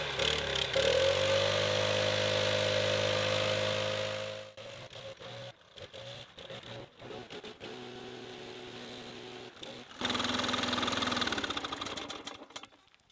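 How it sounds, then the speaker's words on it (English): A petrol leaf blower blows dust off a giant tree stump, its droning engine running strong, dropping to a lower sputtering idle midway, then surging back up before cutting off near the end. "grab a leaf blower, blow all the dust off this"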